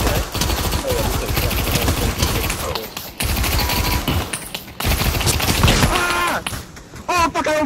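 Gunfire in the VR shooter Pavlov in a Stalingrad-style battle, with bursts of automatic fire and rapid shots in dense clusters separated by brief pauses, loud and close.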